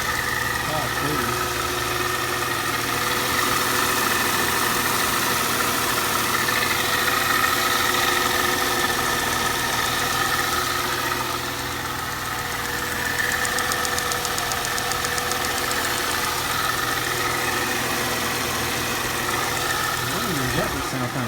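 2004 Mercedes SLK 320 engine idling close by with a steady, even rumble and a light tick running through it, constant throughout, with someone talking over it.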